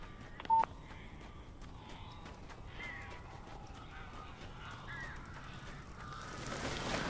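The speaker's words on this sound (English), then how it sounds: "These birds are weird." Crows caw in the video game Alan Wake, with repeated harsh calls at a moderate distance over a steady hiss, plus a brief electronic beep near the start.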